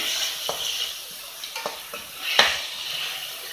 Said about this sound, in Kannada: ಟೊಮೆಟೊವನ್ನು ಈರುಳ್ಳಿಯ ಜೊತೆಗೆ ಚೆನ್ನಾಗಿ ಫ್ರೈ ಮಾಡಬೇಕು.